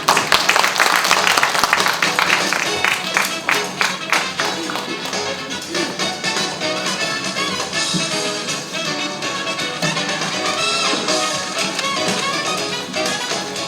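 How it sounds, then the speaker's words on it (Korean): An audience at a public hearing on an undersea tunnel media-art theme park project claps to welcome the panelists, a loud, dense burst of applause that gradually settles into a steadier patter. "박수로 맞이해 주십시오"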